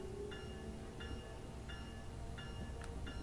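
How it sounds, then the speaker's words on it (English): A train passes in the Train Sim World 2 game, a low steady rumble with regular clicking wheel beats over rail joints, fairly loud and even throughout. "Oh, I can hear another train."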